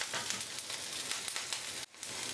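Onions fry in oil in a pan with a dense, close, continuous sizzle and crackle, briefly dropping out for a moment before resuming at full strength.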